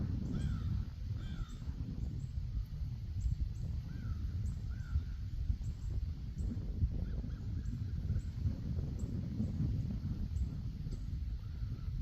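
Birds, likely crows, caw repeatedly at a distance outdoors on a golf course lawn after a hurricane, faint calls over a steady low rumble of wind or traffic, with no talk.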